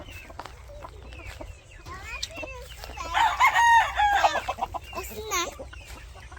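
Chickens cluck and squawk close by on a rural farm, with a short burst of louder, excited calls in the middle. People speak briefly over a low background hum.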